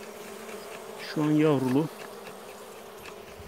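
Honey bees hum steadily at an open hive of a weak colony covering four brood frames, a low continuous drone with a man's short spoken phrase over it.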